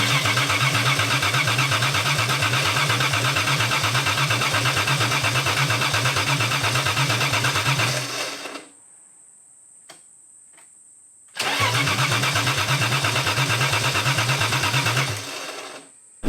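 The starter on a BMW E36 with a rebuilt M50 engine cranks twice in long, loud, rapid pulsing bursts with a pause between them, the engine not firing, and no voices.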